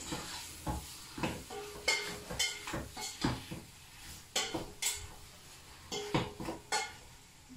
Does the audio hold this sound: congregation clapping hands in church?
no